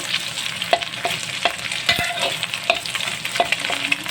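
Garlic and egg frying in a pan for rice, a steady bright sizzle broken by regular scraping taps of the spatula as it is stirred, close and fairly quiet, with no talk.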